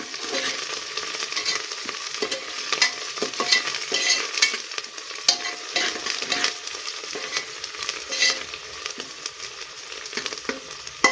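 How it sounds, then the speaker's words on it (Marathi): Coriander leaves stirred and sautéed with browned onion in a pan, giving a continuous close sizzle with rhythmic scraping and stirring strokes throughout, no voices. "आता इथे मी कोथिंबीर टाकून घेणार आहे। कोथिंबीर थोडीशी परतून घ्यायची।"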